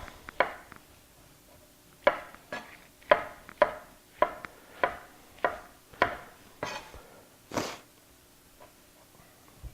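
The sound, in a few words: trimming and chopping oyster mushrooms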